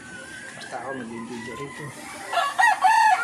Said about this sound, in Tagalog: Ayan, ang mga manok niya.